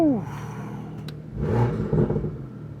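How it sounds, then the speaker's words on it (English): A BMW F87 M2 fitted with an M Performance exhaust fires up, a close, loud burst of revving and rumbling exhaust that swells after a brief whine and holds at a rough, aggressive idle. "let's give her a start up and see what she sounds like"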